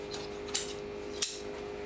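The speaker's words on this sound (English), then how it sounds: "And you're going to want to cut that excess out." Scissors snip through excess upholstery fabric on a chair, two crisp close cuts about half a second apart over a quiet background.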